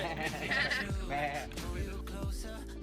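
A group of people on a paragliding course in Dirang mimic goats, letting out a few wavering, nasal bleats in chorus, loud and close, with voices overlapping.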